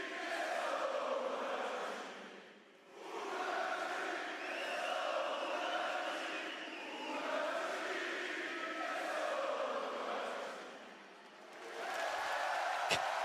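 At WWE Raw during Roman Reigns' Acknowledgment Ceremony, a large arena crowd chants in loud rhythmic waves, the sound swelling steadily with two short lulls.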